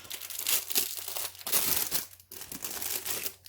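A cross-stitch kit package being opened by hand, with continuous crinkling and crackling plastic wrap handled close by in bursts over a few seconds and a brief pause partway through.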